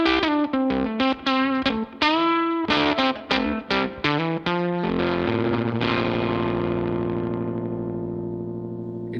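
An electric guitar played through a twin boost pedal starved of voltage gives a gritty, compressed tone: several chopped chords and notes, then a long ringing chord decaying over several seconds, loud and close with no voice.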